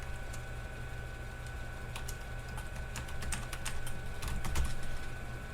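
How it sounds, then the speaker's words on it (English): Keys clatter in quick irregular bursts as someone types on a keyboard connected to an Altair 8800 computer running CP/M 2.2, the close taps sitting over a constant electrical hum. "You can see me typing in up here, the capital A's and appearing down here."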